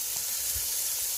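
Minced beef sizzling in a pan with sweated onions for Kai Si Ming, a steady close hiss of frying with soft crackles and no talking.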